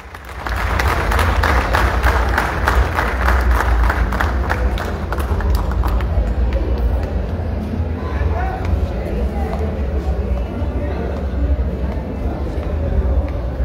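Crowd applause at the closing ceremony of the 166th Fiestas de la Villa in Colima honoring the doctor Roberto Bravo, dense and sustained clapping at moderate distance that gradually thins, with a babble of voices beneath.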